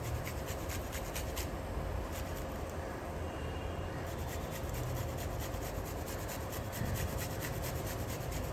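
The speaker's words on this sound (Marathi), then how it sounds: "थोडंसं आलं टाकणार किसून." Fresh ginger, about half an inch, grated for Konkani khandvi: a steady, continuous rasping scrape at moderate level, close and uninterrupted for several seconds.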